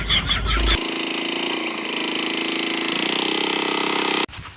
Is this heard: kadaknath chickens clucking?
no